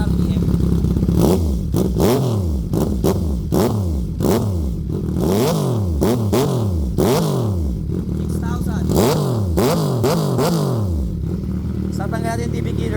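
CF Moto 675 SR-R sport motorcycle fitted with an IXIL full exhaust, revved repeatedly in sharp blips that rise and fall in a steady series, loud and close, with the throttle snapping up and dropping back each time.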